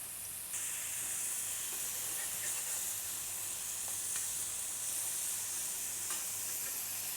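Mahi mahi sizzles steadily on a hot grill, a continuous close-up hiss and crackle with occasional small pops, no voices.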